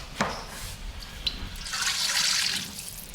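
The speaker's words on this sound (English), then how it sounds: "we could probably put a little bit of water in there" A little water is poured into a pan of gravy to thin it: a soft, continuous splashing pour that swells midway, with a couple of small clinks at the start and no talking.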